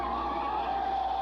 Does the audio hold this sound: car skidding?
yes